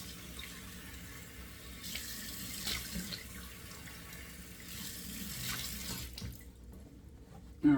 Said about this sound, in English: now it's time to close those pores with 2 splashes of cold water